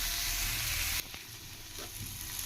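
Cluster beans and onion sizzle and crackle as they are stir-fried in a pan, a steady loud fry that softens slightly partway through with a few scraping stirs.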